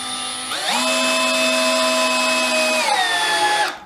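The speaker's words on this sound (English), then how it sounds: "with these screws you do have to press down quite hard on them" Power drill driving screws into old wooden floorboards for a drill press stand, a loud steady motor whine rising in pitch as it spins up, holding for about two seconds, then slowing and winding down.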